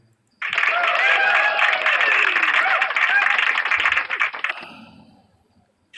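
Loud applause and clapping from a crowd at a religious debate gathering, starting abruptly and sustained for about four seconds before tapering off to quiet.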